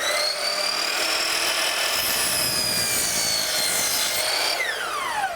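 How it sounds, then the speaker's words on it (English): Miter saw making a compound cut at 15 degrees each way through wood, a loud continuous high-pitched whine and blade grind that holds steady for several seconds before the pitch begins to fall as the cut finishes. "I'm going to take a cut 15 degrees one way and 15 degrees the other way"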